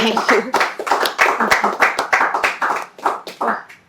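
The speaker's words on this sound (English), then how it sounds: "a round of applause" A small audience claps at a book conversation event, a burst of distinct, fairly close handclaps with uneven rhythm that thins out toward the end, with no talking over it.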